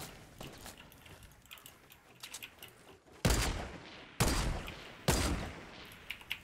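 Auto sniper rifle fire in Fortnite: three loud, sharp shots spaced about a second apart, preceded by quieter distant gunfire and game clatter.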